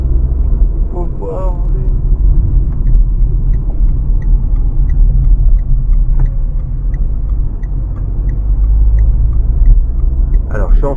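A Renault Clio driving in second gear hums with a steady, low engine rumble heard from inside the cabin, holding constant throughout with faint voices now and then.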